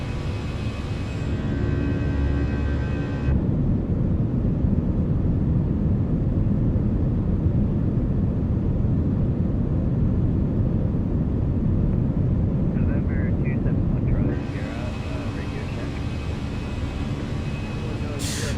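A Fenix A319 airliner's engines rumble in a flight simulator during takeoff, a steady heavy roar that holds throughout, with brief higher-pitched system tones and clicks near the start and end.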